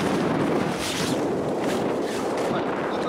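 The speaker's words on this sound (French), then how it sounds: "Attention, il y a du vent." Steady wind gusting across a microphone while a catamaran is rigged outdoors, a loud broadband rush that swells and buffets without pause for about three seconds.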